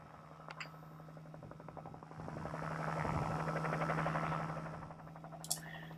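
Helicopters fly over a wild horse round-up in Calico, Soldier Meadow, as a steady rotor drone swells louder toward the middle and then fades, with a broad chopping texture and no talk.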